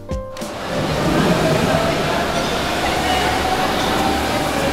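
Berlin metro train, a loud steady rumble of the carriage rolling along the track that starts abruptly and holds a constant roar with a faint whine throughout.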